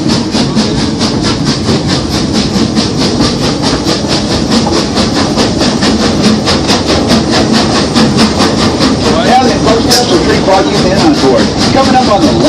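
A theme park train ride rolls along with a loud, continuous rhythmic clatter of wheels over track joints and a hissing rumble underneath, evenly paced throughout.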